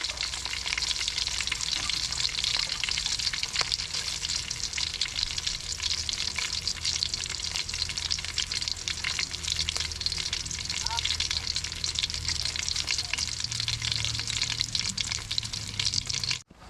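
Oil sizzles and crackles steadily as catfish fries, a dense continuous hiss up close, with faint clatter near the end.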